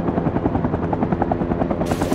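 A helicopter spins out after an RPG hit in the video game Rising Storm 2, its rotor chopping loudly and rapidly close by, with a burst of hiss near the end.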